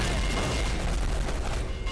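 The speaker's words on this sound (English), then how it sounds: "The game's not shy when it comes to explosions, and it really likes to stack them." Explosions and gunfire from the underwater FPS video game Red Ocean, a dense, continuous wall of booming blasts and shots, loud and steady with no talk.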